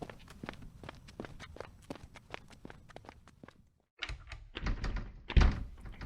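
A locked door rattled and thumped as someone fiddles with it, a run of sharp knocks and clunks repeating steadily, a brief silence, then a louder burst of banging and scraping close by.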